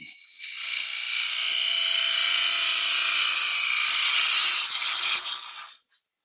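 A woodturning gouge cuts into a spinning wooden bird-house blank on a lathe, making a steady, close scraping whine that runs unbroken for about five seconds, swells slightly near the end, then stops abruptly.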